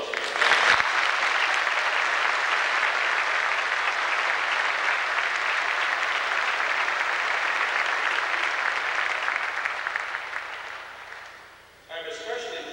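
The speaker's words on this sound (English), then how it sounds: "How about a round of applause?" Sustained applause from an audience at a school class-of-1995 recognition event fills nearly the whole stretch evenly, fading near the end before a voice begins speaking.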